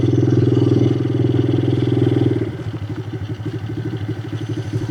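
A jet ski engine runs at a beach, its loud, steady drone with a pulsing harmonic buzz that drops in level and turns choppier, sputtering and rhythmic, partway through.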